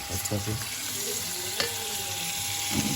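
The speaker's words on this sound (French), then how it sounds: "vous avez votre vinaigre qui réduit" Vinegar reducing in a hot pan, a steady close sizzle and bubbling hiss filling the whole stretch with faint clinks, no voices.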